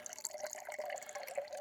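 Water trickles and drips steadily through a Katadyn water filter at a wild camp on South Dartmoor, a faint, close, continuous splashing with light irregular drops.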